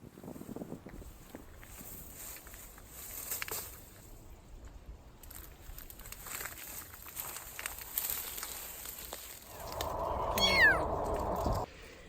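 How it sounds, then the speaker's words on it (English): A small kitten meows from thick roadside brush along the Camino in Spain. Gusty wind and outdoor rustle run throughout, then a louder run of close, high meows comes near the end. "I just found this kitten in all this brush"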